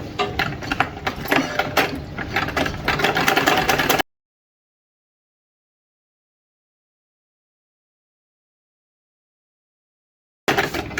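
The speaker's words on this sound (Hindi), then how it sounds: "ये जो जहाँ से हमारा इधर से कपड़ा शुरू होता है उधर से आपने सिलाई लगानी शुरू करनी है।" A tailoring sewing machine stitches kameez fabric with a steady mechanical whir for about four seconds. Silence follows, then the stitching briefly resumes at the very end.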